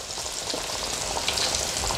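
Fish fingers fry in a pan over carefully adjusted heat, giving a steady, close crackling sizzle with dense spattering pops that holds evenly throughout, no voices.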